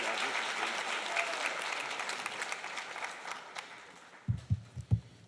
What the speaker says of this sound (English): I'd like everyone here to give him the loudest round of applause